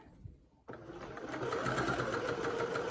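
A sewing machine stitches a 1.5 cm seam on an infinity scarf, starting after a short pause and running as a steady fast mechanical whir close by.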